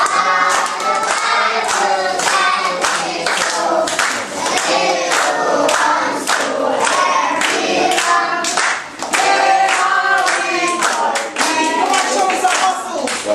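Steady rhythmic hand clapping from a group of children and adults at a children's home in Jamaica, keeping time with singing voices throughout, loud and close.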